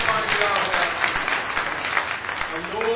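Church congregation applauding during a Sunday sermon, a steady wash of clapping filling the room for about three seconds with a voice faintly present underneath.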